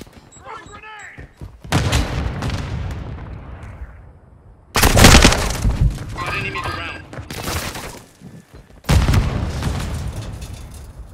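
Frag grenade blast and gunfire in Call of Duty: Modern Warfare II, three loud booming bursts with shattering debris and crackling shots, separated by quieter stretches of battle noise.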